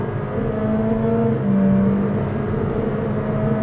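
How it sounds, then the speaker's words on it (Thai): Honda WR-V engine pulling under full throttle acceleration, a steady loud droning hum with a rising tonal whine, heard from inside the car without talking. "เสียงเครื่องนานๆแบบนี้เหมือน BRV เลยลักษณะคล้ายๆ กันเลยนะครับเหมือน BRV คือเสียงดังดูสปอร์ตอัตราเร่งดี"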